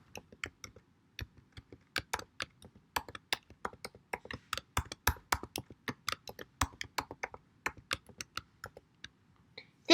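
Steady, busy typing of Python code on a computer keyboard, dense irregular key clicks close by, rising and falling in bursts with no voices.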